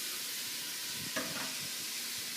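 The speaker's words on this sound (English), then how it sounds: "you'll cook these until the onions turn translucent" Onions sizzle in a hot pan with a steady, bright frying hiss, and a brief scrape of stirring rises near the middle before the sizzle settles back.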